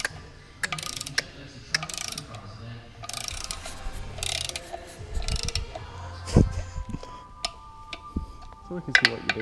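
A torque wrench tightening the bolts of a stage 4 clutch pressure plate in a star pattern, giving irregular metallic ratcheting clicks and clunks close up, with someone talking intermittently among the mechanical noises.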